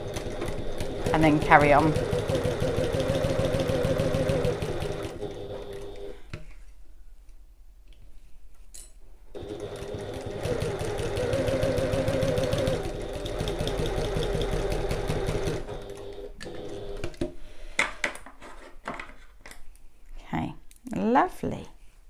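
A domestic sewing machine runs in steady bursts while back stitching a fabric passport folio, its rapid mechanical ticking stopping for a silent pause before starting again, with someone talking briefly near the end.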